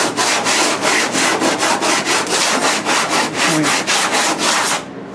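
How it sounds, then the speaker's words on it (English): An old piece of sandpaper scrubbing sticky resin off a car's rear quarter panel: loud, steady back-and-forth rasping strokes in a fast even rhythm, close up, stopping abruptly at the end. "So instead of ruining a good piece of sandpaper, like this one here is an old piece, you just stuff it off."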